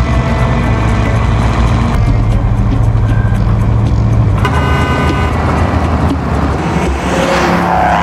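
A car driving on a road during a sheriff's pursuit in the film Blood Star, a loud steady engine and road drone with a horn-like tone, backed by film score, with no talk.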